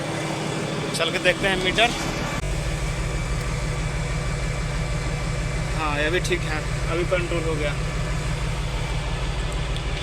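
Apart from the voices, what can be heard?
machine running after being started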